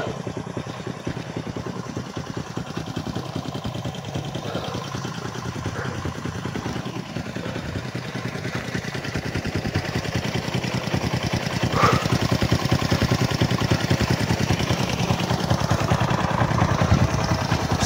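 A motorcycle engine idles steadily for the whole stretch, a low continuous throb that grows a little louder toward the end, with no talk over it.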